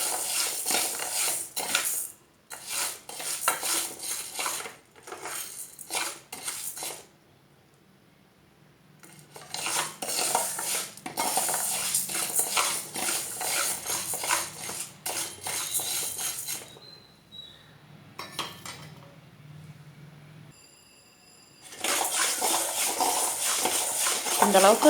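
Green gram dry roasting in a pan, with a spoon stirring and scraping in long bursts of rasping, clattering noise that stop for short pauses, and a person talking over parts of it.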